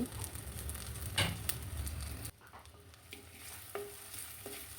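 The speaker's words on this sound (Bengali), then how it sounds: "এখন নেড়ে চেড়ে পেঁয়াজটাকে বেজে নিব" Onion frying in hot oil with ginger-garlic paste and salt, sizzling steadily while a spoon stirs and scrapes the pan, with a louder burst early on before the sizzle settles to a quieter hiss.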